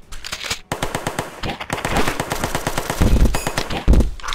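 A machine gun rattles in a video game, loud and near, firing fast rhythmic bursts with short pauses and a few heavier thumps mixed in.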